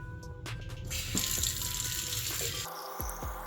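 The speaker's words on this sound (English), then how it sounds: "I'm just gonna use tap water and fill it up to the fill line on here" Tap water runs into a Presto cold brew coffee maker, a steady hissing rush with faint clinks of the container, close and continuous without talk.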